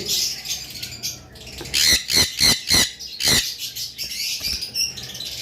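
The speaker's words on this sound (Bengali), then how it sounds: "পারবুলু লাভবার্ড পারবুলু ভায়োলেট" Parblue violet lovebirds, a bonded pair with the female nesting in a pot, squawk in harsh, loud bursts, with a rapid run of several sharp calls close by.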